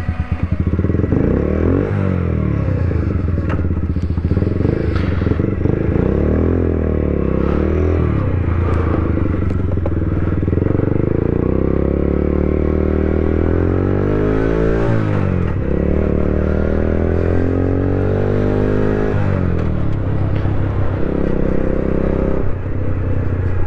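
Aprilia motorcycle riding and accelerating, its engine loud and close throughout, rising and falling in pitch with repeated revving through the gears and steady rumble.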